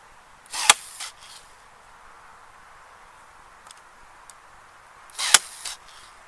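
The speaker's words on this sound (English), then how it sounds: "I can now try out a recently purchased battery operated staple gun" A battery-powered staple gun fires staples into weed control fabric, two sharp snapping shots about four and a half seconds apart, each with a short rattle, close by and alone with no talk.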